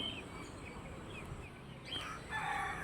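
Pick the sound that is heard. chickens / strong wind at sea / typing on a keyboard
chickens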